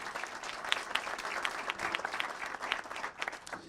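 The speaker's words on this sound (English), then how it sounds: "Let's get a round of applause for that." Steady applause rises from the audience at a city council meeting, with many individual claps at moderate volume, slightly distant, and no talking.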